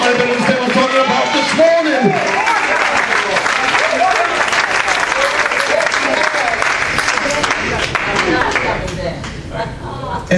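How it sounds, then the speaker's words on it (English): A church congregation claps and cheers loudly through a sermon, with dense sustained applause mixed with shouting voices and a preacher's voice over the top. "Somebody's going to be clapping right now."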